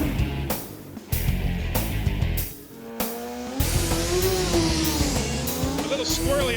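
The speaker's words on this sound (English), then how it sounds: "He's heating up the tires good." Drag racing car doing a burnout to heat its tires at a drag strip, loud engine roar with rising revs and tire squeal, mixed with crowd noise and talk.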